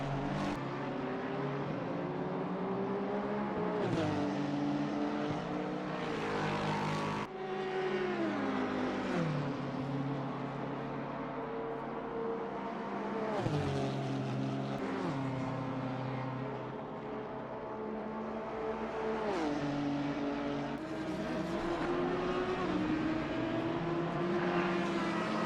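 Race cars in an endurance race at Mount Panorama, engines droning continuously and loudly with pitch rising and falling through gear changes, several passes blending together without a break.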